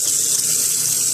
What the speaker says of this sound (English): Nice faucet.